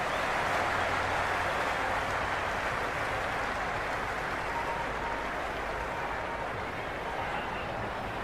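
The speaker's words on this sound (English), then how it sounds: "The crowd are really getting quite raucous." A crowd roars and cheers steadily at a cricket match in a video game, a dense, continuous wash of noise like applause, loud and unbroken throughout with no clear voices on top.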